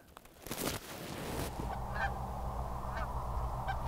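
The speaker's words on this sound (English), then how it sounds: "Geese." A rustle and thump give way to a few distant goose honks, spaced about a second apart over steady background noise, during a waterfowl hunt in Nebraska.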